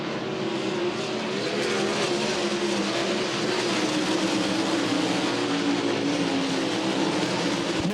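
World of Outlaws sprint cars racing on a dirt track in Baytown, Texas, a dense continuous roar of high-revving engines sweeping past, loud and unbroken for the whole stretch.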